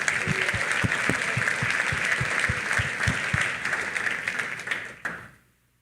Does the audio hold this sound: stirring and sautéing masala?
no